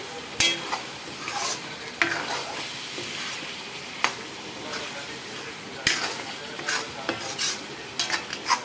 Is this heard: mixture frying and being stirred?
yes